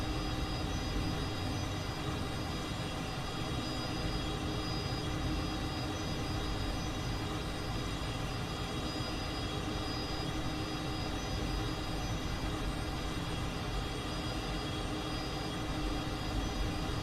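A Cessna T-37 Tweet jet in Microsoft Flight Simulator gives a steady, loud engine drone with a broad roar and faint high whine, unchanging for the whole stretch, with no talking.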